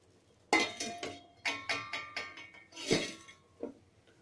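A lid goes onto a pot of tulsi and karpooravalli herbal tea, producing a close run of bright metallic clinks and rattles, each ringing briefly before the next.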